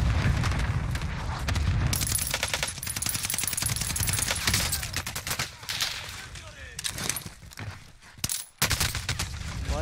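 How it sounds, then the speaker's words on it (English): Sustained gunfire from a Call of Duty Warzone match on Caldera, loud near bursts of automatic fire and rapid shots running almost continuously, with a brief lull and a final burst near the end, under occasional voice chatter. "I'm getting shot from behind too."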